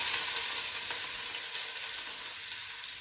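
Onions dropped into warm olive oil in a preheated pot, giving a steady, broadband sizzle that is fairly soft and gradually settles, with no talking.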